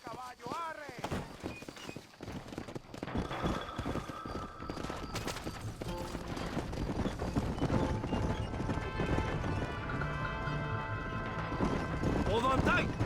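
Horse hooves clip-clopping at a run in the Red Dead Redemption video game, steady rhythmic hoofbeats with a brief whinny, continuous under music and intermittent voices.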